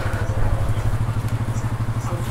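Motorcycle engine idling close by with a fast, even low putter while the bike is parked, steady and unbroken, with a voice faintly audible over it.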